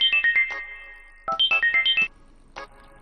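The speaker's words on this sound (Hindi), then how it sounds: "फोन आ रहा है आपका।" A mobile phone ringtone plays in two bursts of rapid beeping tones, clear and close, followed by a short trailing note, with no voices.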